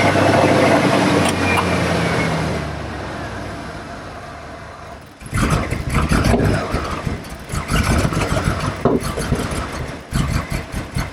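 A 1989 Ford F150 pickup engine, a barn find, rumbles loudly, then after a brief dip it runs rough and uneven with knocking, rattling bursts.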